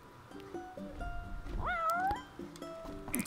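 A cat meows in the video game Final Fantasy XV, with one clear rising, drawn-out meow in the middle amid soft game music tones and faint background sound, no talking.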